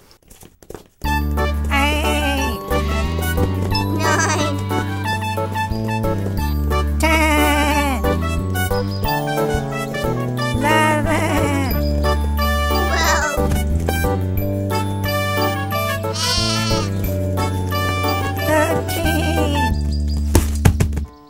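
Several bleats from animated sheep being counted into a pen rise over continuous, cheerful background music with bright sustained tones.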